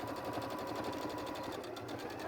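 A sewing machine runs steadily and close by, stitching fabric arm pieces right sides together, with a fast, even mechanical whir and rhythmic needle clatter that carries on without pause.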